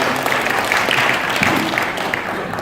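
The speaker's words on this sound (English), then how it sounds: "Can we have a round of applause, please?" Audience applause at a Blockshow Asia 2017 pitch event for a co-founder, a steady dense wash of clapping with faint voices mixed in, continuing evenly throughout.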